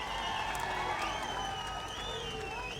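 An outdoor public rally crowd claps continuously for a welcome, with scattered whistles and cheers, a dense wash of applause heard from a distance.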